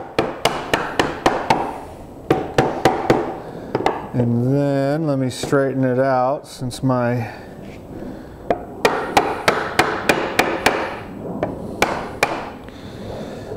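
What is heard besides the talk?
hammer tapping wooden beehive bottom board pieces together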